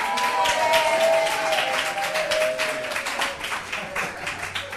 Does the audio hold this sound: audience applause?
yes